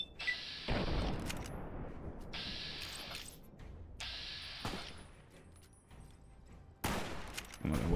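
Gunfire during target practice in a Fallout-style video game using VATS, several sharp shot bursts with booming reports and ringing tails, loud and close, spaced a second or two apart.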